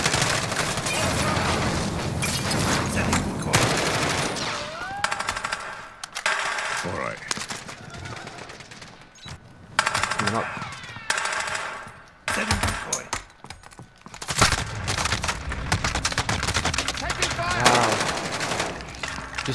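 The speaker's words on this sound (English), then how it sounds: "Somebody shooting straight through the box." Rapid automatic gunfire and scattered shots from the video game Warzone Zombies, bursts coming in loud clusters with brief gaps, mixed with game effects and occasional talk.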